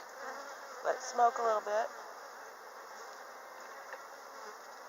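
A steady low buzz of honeybees around a hive during a spring inspection drones throughout, with a person speaking briefly over it partway through.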